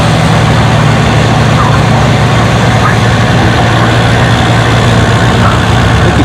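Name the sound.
pulling tractor engine pulling the sled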